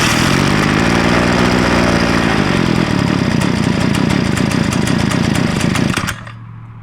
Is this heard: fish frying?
no